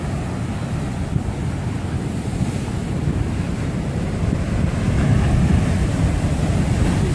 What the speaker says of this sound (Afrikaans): Die see is baie groot vanoggend.